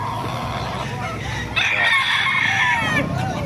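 A Lemon Sweater gamefowl rooster lets out one loud, close crow midway through. The crow follows a stretch of low background hum and faint clucking.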